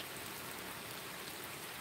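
Steady, soft rain falling outdoors, a continuous even hiss of drops on surfaces with no other sounds.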